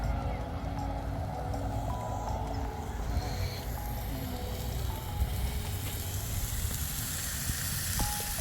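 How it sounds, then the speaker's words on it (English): A strip steak sizzles on a charcoal barbecue cooker in a California park, giving a steady crackling hiss with occasional pops against faint outdoor background noise. "So just cooking one of the sides of the strip steak, just to make sure that we have an even cook on all sides."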